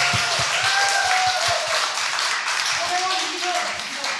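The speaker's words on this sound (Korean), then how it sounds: "박수!" Audience applause and cheering at a live public broadcast of a Korean political talk show, a dense wash of clapping filling the room with occasional sharper hand claps and voices mixed in.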